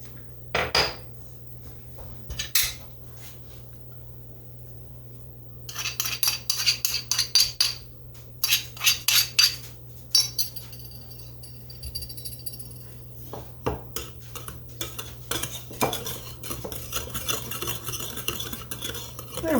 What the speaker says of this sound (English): we're going to just stir that together to blend it well. The old Dutch whisk.